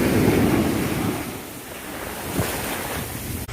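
Sea waves break and wash ashore at Thanni beach with a steady, loud roar, mixed with gusting wind noise across the whole stretch and no voices.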